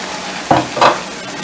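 Tomatoes going into a hot pan over medium heat, with a steady frying hiss broken by two short, louder bursts of sizzling and stirring close by.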